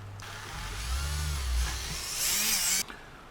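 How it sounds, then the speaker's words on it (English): A drill bores out a small brass silencer part for an Airfix Bond Bug model kit, giving a harsh buzzing whir that runs for about three seconds and then cuts off abruptly. "Just needs the silencer drilling out to the correct dimension."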